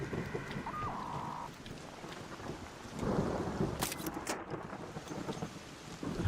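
Thunder from an electromagnetic storm in Arc Raiders, a rumbling crash about halfway through over steady rain-like noise, fairly loud with sharp cracks following.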